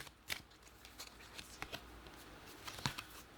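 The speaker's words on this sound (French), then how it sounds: "On va enlever les cartes." Tarot cards being handled and drawn for a reading, heard as quiet papery slides and a few sharp snaps and taps scattered through a soft, low background.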